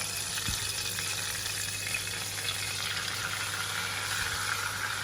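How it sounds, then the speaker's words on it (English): Butter and flour stirred together into a roux in a hot pan over a warm flame, a steady close sizzle and frying hiss with faint scraping throughout. "And gets stirred around into a roux."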